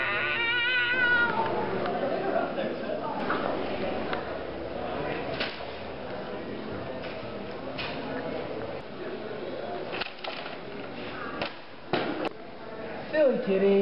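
A cat meows repeatedly, some cries drawn out and high, over a steady background with a few knocks and clatters.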